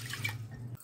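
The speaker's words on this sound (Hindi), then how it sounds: "जिस कटोरी से हमने दाल ली थी उस कटोरी से ही हम पानी डालेंगे" Water poured from a small bowl into a pressure cooker holding dal, a short steady splashing pour that cuts off abruptly near the end.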